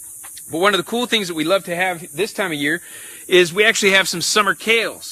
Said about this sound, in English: You can hear the cicadas humming and buzzing in the background.